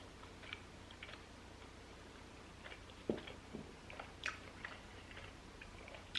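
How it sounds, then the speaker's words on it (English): Quiet, close chewing and biting of Korean food at a mukbang, scattered soft crunches and mouth clicks over low room noise with no talking. "This video is gonna be a lot of chewing"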